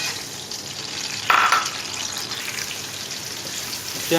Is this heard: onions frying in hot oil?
yes